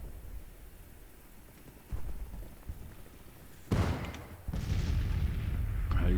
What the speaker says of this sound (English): He's got his artillery firing on me here